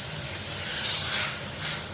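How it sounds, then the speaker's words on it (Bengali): Water poured into a hot pan of cooked-down olive (jalpai) chutney, giving a steady broad hiss and sizzle that swells and eases over two seconds, close and fairly loud with no talk. "এবার আমি একটু সামান্য জল ঢেলে দেবো"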